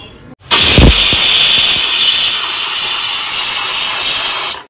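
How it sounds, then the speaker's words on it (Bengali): A pressure cooker boiling young jackfruit with salt and turmeric lets out one loud, close steam hiss. It bursts on abruptly after a short pause and holds steady for about four seconds before cutting off. "এবার আমি প্রেসারে সিটি মেরে নেব 2 থেকে 3টে।"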